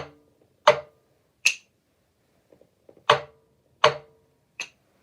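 Sharp taps of wooden dowel rods strike a hard floor, a few separated knocks with gaps, plus a couple of faint softer clicks between them.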